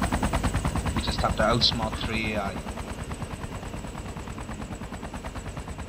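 Rapid machine gun fire from AI enemies in DayZ Epoch on the Sauerland map, a long rhythmic rattle of shots continuing throughout, with a brief word spoken early on.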